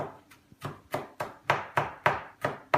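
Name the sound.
finely chopping garlic with a knife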